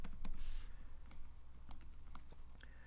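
A few sharp key clicks on a computer keyboard while working in AutoCAD, scattered and fairly close, over a steady low background hum.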